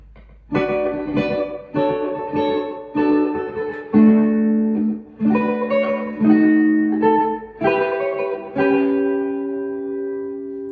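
An electric guitar plays the opening phrase of a song in jazz/swing style, sustained, distorted notes and bends with reverb, each note ringing out before the next.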